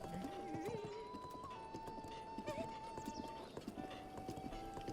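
Horse hooves clip-clop steadily at a walking pace in Zelda: Breath of the Wild, with occasional whinnies and someone talking over the rhythm.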